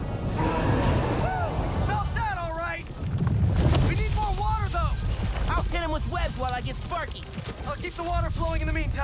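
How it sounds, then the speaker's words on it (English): Water spraying in Marvel's Spider-Man 2 makes a steady rushing hiss that runs through the whole stretch, with voices talking over it. "Keep the water flowing in the meantime."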